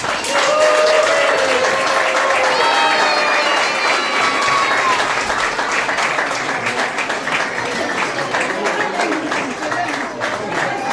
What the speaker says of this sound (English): can everyone give a big round of applause to Colin and Pamela?